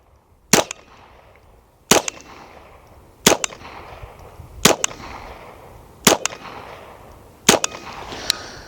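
Six sharp gunshots crack at a steady interval of roughly one and a half seconds, each ringing briefly, as a shooter fires at swinging golf ball targets outdoors.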